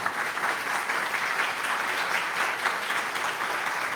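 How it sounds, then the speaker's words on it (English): A church congregation applauds at a Sunday service, steady sustained clapping from a full room that holds evenly for the whole stretch with no break. "And now we can applaud for that, I think."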